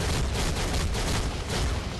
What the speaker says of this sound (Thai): ปาระเบิด